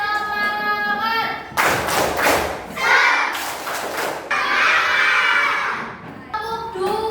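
Children in a classroom clap together in the rhythmic tepuk semangat class clap, loud bursts of patterned group clapping with thumps between, alternating with stretches of singing voices.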